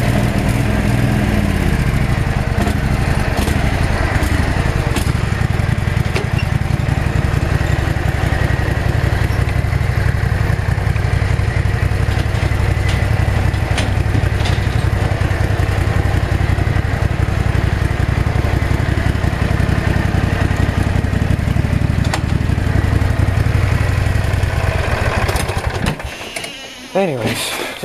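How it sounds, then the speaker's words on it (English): A small V-twin engine runs steadily for nearly the whole stretch, a loud continuous rumbling drone that cuts out abruptly near the end. "You can hear how it starts."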